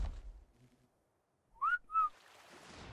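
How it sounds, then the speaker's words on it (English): Two quick, sharp two-note whistles call a tamed creature in the ARK survival video game, ringing out close and loud after a near-silent pause with no talking. "I whistled for Lightning McQueen"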